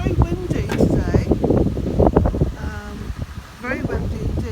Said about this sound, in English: so it's very windy today